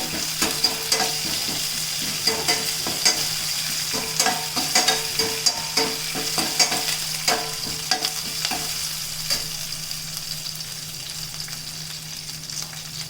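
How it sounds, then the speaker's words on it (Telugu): Curry leaves crackle and sizzle in hot oil for an Andhra tempering, with a steady frying hiss and repeated clicks of a spoon stirring against the pan, close and fairly loud, fading slightly toward the end. "కరివేపాకు. ఇది వేగనిద్దాము."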